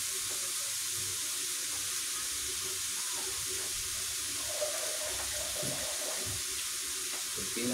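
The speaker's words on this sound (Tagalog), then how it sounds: "Lalagyan po natin ng kunting water." A little water is poured into a pan of sautéed bitter gourd with eggs, giving a steady hiss and sizzle with faint splashing and small clatters throughout.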